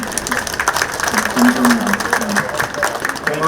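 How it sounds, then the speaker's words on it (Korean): A crowd applauds steadily at an outdoor unveiling ceremony for a sculpture marking the first anniversary of the Daegu-Gyeongbuk integrated new airport decision, while someone speaks over the clapping. "여러분 박수 한번 보내주시기 바랍니다."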